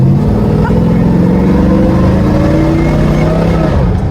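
A 1954 Chevy 3100 pickup's engine pulls steadily under gentle acceleration while cruising, a continuous close low rumble with rising harmonic tone and no talk.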